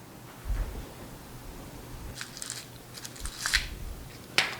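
Scissors cut through fabric for the front panel of a men's native top, quiet snipping and crisp shearing crunches in short irregular bursts, with a soft thump early on and a sharper click near the end.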